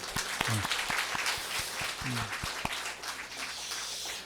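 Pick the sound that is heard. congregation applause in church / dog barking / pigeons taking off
congregation applause in church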